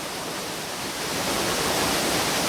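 Hull Creek Falls in Pennsylvania roars as a loud, dense, constant rush of falling water close by, with wind mixed in and no pauses.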